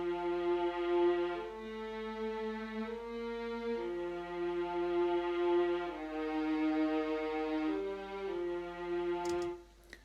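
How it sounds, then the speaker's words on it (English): A synth viola patch from the free Flex synthesizer in FL Studio 20 plays a slow, sustained melodic line of smooth bowed-like notes in a prog rock arrangement, steady and mid-loud, ending with a brief click. "It's actually a synth viola"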